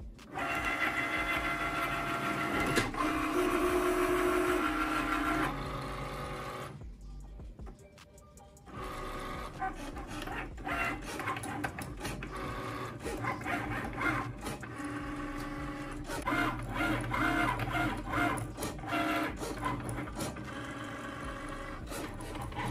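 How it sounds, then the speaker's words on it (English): A Cricut cutting machine cuts glitter iron-on vinyl, whirring and buzzing steadily with motor whines and carriage movements over about twenty seconds, loud and close, with a short lull midway and no talk. "Then I'm going to press the Cricut Go button."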